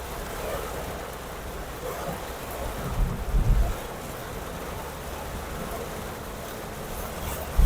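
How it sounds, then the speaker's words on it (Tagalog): Heavy rain pounds a vehicle during a thunderstorm drive from Pandacan, Manila to Biñan, Laguna, a steady wash of downpour and wind with a brief low rumble in the middle. "Sana ay hindi na masyadong tumagal tong ulan kasi baha talaga to kapag ganito yung bagsak ng tubig."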